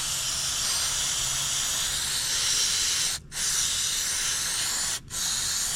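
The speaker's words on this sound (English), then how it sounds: "What is that, brake cleaner?" Brake cleaner sprays in a steady, close, loud hiss while work goes on around a Honda Accord's EGR valve, broken by two brief pauses about two seconds apart before the spray resumes.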